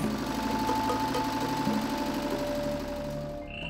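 A village generator running on oil drones steadily with a rumbling, knocking engine hum and faint mechanical whine, continuous and fairly close, easing slightly near the end.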